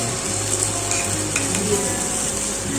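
Batter hitting hot oil in a pan for a quick vegetarian breakfast, giving a steady close sizzle with soft stirring and faint clinks of utensils throughout.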